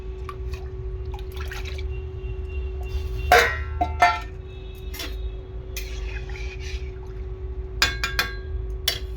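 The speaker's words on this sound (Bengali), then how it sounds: "আর দেখো পরিমাণ মতো জলটাও আমি দিয়ে দিচ্ছি" Water being added to a pot of mung dal, heard as scattered drips and splashes with a couple of louder pouring bursts over a steady low hum, close and fairly quiet, no voices.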